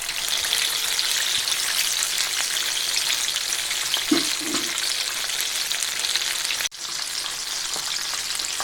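Chicken pieces coated KFC-style deep frying in a generous amount of oil, a steady loud sizzle throughout with a brief stir around the middle and a short break near the end, no talk.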